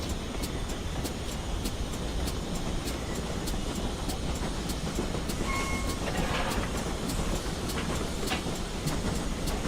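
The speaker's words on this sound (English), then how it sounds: "DGJP says the chuffs do sound like Lad of Legend." GWR no. 2999 Lady of Legend, a steam locomotive in a video game on the Penwyth Valley Railway, chuffs in a steady, rapid beat beneath a constant rumble of rolling train noise, with a brief whistle-like tone midway.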